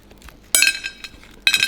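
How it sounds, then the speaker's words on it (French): Frozen mini ice cubes made in a Pop-It mold clink together, with two bright clusters of glassy tinkling separated by a short pause, close and clear. "c'est tout simplement des petits glaçons Pop-It."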